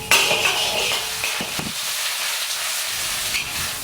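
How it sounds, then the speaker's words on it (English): Spinach sautes in a wok with oil and garlic, giving a close, steady loud hiss broken by a few sharp metallic clanks and scrapes of a utensil against the pan, with no talking. "Saute the spinach until it starts to wilt"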